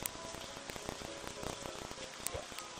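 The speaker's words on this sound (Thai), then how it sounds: "อะไรนักหนากับไอ้เมฆฝนเนี่ยนะครับ" Rain pours from a rain cloud in the video game Mimpi, a steady patter of drops with scattered sharper taps and clicks mixed in, continuous and fairly quiet, without speech.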